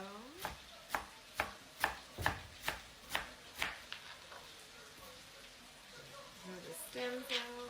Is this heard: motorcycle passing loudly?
no